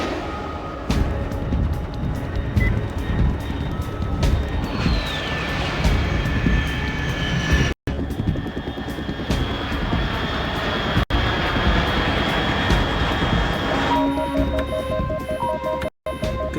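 Aircraft in the video game Metal Gear Solid 3 flying overhead, a continuous loud droning engine roar with steady tonal whine, sustained throughout with brief dropouts and a shifting hum near the end.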